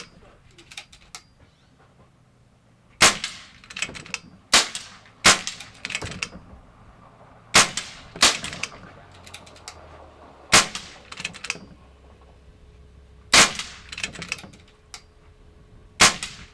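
Air rifle shots ring out at a shooting range, each a sharp crack with a metallic clang from steel targets, about ten spaced irregularly over the stretch, with brief voices and low chatter between them.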